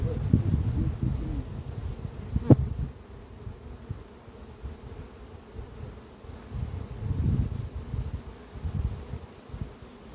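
A steady low buzz of many bees flying around their hive outdoors after rain, swelling and fading, with faint wind and a sharp click partway through.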